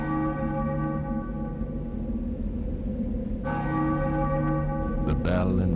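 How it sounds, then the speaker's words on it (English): A church bell at Glamis Castle tolls with long ringing overtones, a sustained resonant hum and a second strike late on, loud and close. "The bell invites me."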